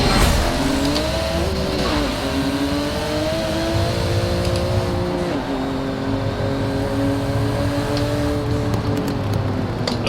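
Porsche GT2 RS racing at Laguna Seca in a racing video game, a continuous loud engine note rising and falling through gear changes with faint tire noise, no talk.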